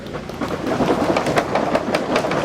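Fire academy recruits stomp their feet up on a roof in a dense, continuous rumbling drum of many overlapping thuds, loud and steady like rolling thunder.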